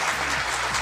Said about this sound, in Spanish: Fuerte el aplauso para Faustino.